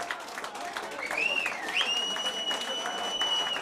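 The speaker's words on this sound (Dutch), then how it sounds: "En ik wil nog een groot applaus voor alle artiesten die geweldige 7 liedjes hebben gebracht." A carnival song festival crowd applauds all the performing artists, the clapping running under a speaking voice alongside high sustained whistling tones.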